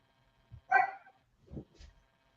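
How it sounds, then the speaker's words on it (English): A dog barks at a fire truck passing on a highway. There is a sharp bark followed by a lower, gruffer woof and a softer trailing bark. All are close and stand alone against near silence. "that's a dog barking because the fire truck going down the highway"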